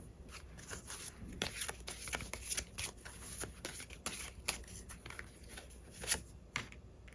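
Tarot cards being shuffled by hand, a dense run of quiet riffling and sliding card noises with soft flicks, close and low in level, with no one talking.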